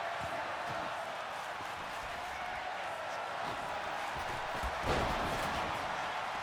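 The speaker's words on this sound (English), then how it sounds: "Crowd loving it." A crowd at an MFW wrestling event cheers in a broad, steady roar of voices with a brief loud thump partway through, heard from some distance.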